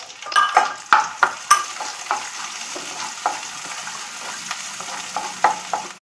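Chopped onions and green chillies hit hot oil with spices, giving a steady sizzle and frying hiss punctuated by sharp clinks and scrapes of a spoon stirring in the pan, with no voices.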